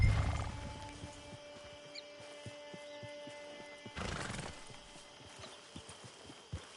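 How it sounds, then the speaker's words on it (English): In the video game Red Dead Redemption 2, a horse gives a whinnying neigh near the start, followed by a loud snort and the soft rhythmic clip-clop of its hooves, with no talk over it. "Get your horse."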